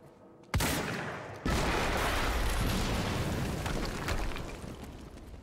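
A sudden loud explosion in the video game Quantum Break, with a second heavy blast close behind and a long rumbling roar that slowly fades, no voices over it.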